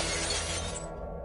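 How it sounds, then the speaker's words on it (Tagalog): Glass on top of a dining table shatters in a loud, dense burst of breaking shards that rings out briefly, then cuts off and fades away. "Bigla ring nabasag ang salamin sa ibabaw ng dining table"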